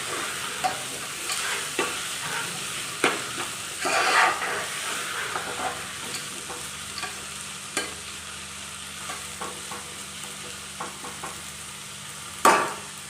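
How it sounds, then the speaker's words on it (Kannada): Tomatoes frying in a pan for tomato chitranna, stirred with a spoon: a steady close sizzle and hiss broken by repeated scraping and clinking strokes against the pan at an uneven pace, with no voices. "ಟೊಮೆಟೊ ಹಾಕಿದ ತಕ್ಷಣ ನೀಟಾಗಿ ಮಿಕ್ಸ್ ಮಾಡಬೇಕು"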